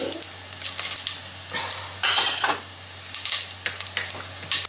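Bay leaf and cumin hit hot oil in a home kitchen pan, giving a steady close sizzle with louder crackling surges as the spices are stirred.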